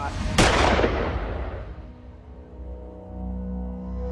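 A single sharp gunshot cracks out near the start, followed by a long rumbling echo that slowly fades into low background noise.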